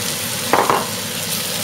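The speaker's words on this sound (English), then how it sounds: "So we add in our half a mug of rice." Rice tipped into a pan of frying onions and pepperoni, giving a steady low sizzle with two brief louder bursts of crackle as the grains hit the hot fat, plus a short clink near the end.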